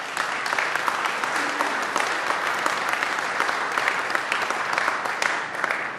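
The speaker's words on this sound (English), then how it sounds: "If we can give him a round of applause." Dense, sustained applause from an audience honoring a police chief at a county crime statistics event, steady and loud for the full length with a murmur of crowd under it.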